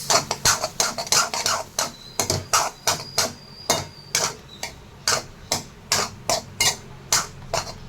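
A spatula scraping and tapping through a fried rice mixture in a pan, making a close, repeated series of sharp scratchy strokes at a brisk, fairly regular pace.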